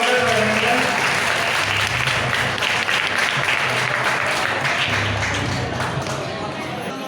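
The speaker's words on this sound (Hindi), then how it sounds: "तालियों के साथ स्वागत करेंगे।" A gathered audience at a community event claps in welcome, loud sustained applause filling the whole stretch with a busy crowd murmur beneath.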